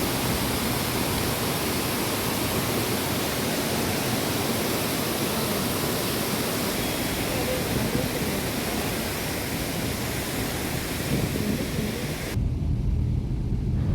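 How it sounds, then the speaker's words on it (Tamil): Charpa waterfall by a roadside on the forest route from Athirappilly to Valparai roars as a dense, unbroken wash of falling water, loud and constant throughout. "இதுதான் நம்ம சொன்ன சார்பா வாட்டர் ஃபால்ஸ் இது ரோட்டு ஓரத்தில் இருக்குது"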